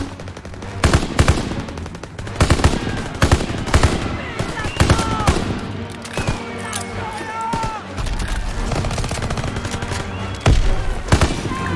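Rapid machine-gun bursts and heavy gunshots crack through a Call of Duty WW2 battle scene, punctuated by sharp blasts, with scattered voices shouting over the dense, loud gunfire.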